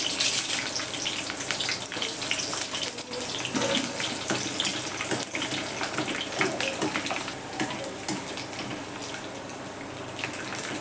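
Sago pearls frying in hot oil with green chillies for a fasting chivda, giving a dense, continuous sizzling crackle, close and steady throughout, with no talk.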